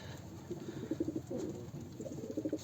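Bozkırlı domestic pigeons cooing up close, a series of soft, rhythmic throaty coos repeating in short bursts with no talking.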